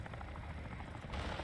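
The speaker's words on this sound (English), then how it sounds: "That helicopter is going to block the sound of my jump" A helicopter in the DMZ video game drones steadily in the background, a constant rotor rumble that swells louder near the end of the short clip.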